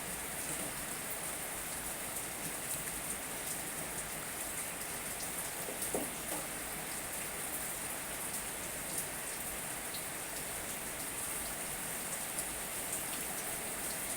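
Steady, dense rain hisses evenly throughout, a constant wash of drops on surfaces with no voices and no other sounds standing out.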